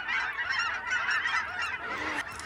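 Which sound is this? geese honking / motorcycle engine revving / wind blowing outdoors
geese honking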